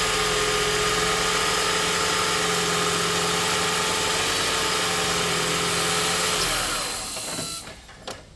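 A Toyota Prius with a large engine oil leak, its engine running at a steady idle with a constant hum and faint vibration, then shutting off and dropping toward quiet with a few small knocks.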